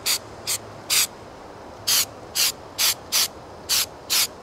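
Short bursts of spray paint hissing onto a painting board, about nine quick sprays in uneven rhythm, close and loud, with no talking.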